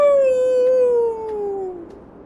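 A person imitates a howl with one loud, long, close vocal tone that slides slowly downward and fades out near the end.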